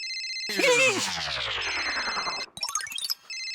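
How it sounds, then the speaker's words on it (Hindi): A phone ringtone chirps repeatedly, a bright electronic trill that rings on and off, partly covered by a swooping comic sound effect and a brief burst of other noise in the middle. "मेहता साहब फिर से आया फोन।"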